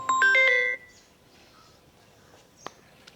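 A quick melodic ringtone plays a few bright electronic notes, then cuts off, leaving faint background noise and a sharp click.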